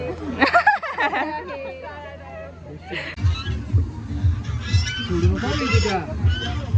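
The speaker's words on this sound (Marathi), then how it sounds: "तिथे बदक आहे" Honking duck calls repeat near and clear amid a crowd's chatter at a birthday party, with people talking nearby through much of it.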